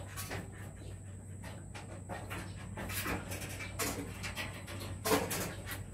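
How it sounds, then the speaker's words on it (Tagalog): A dog pants in hot weather, with quick, steady breathing close by and a few soft knocks in the background. "Mihingal sa init."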